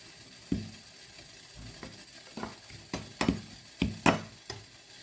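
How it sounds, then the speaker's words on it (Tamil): Sugar is mixed by hand into puttu flour, making a series of soft, irregular scraping and rustling strokes, about eight distinct pushes close up. "தேவையான அளவு சர்க்கரை போட்டு அதை நாங்கள் கலந்து கொள்ளுவோம்"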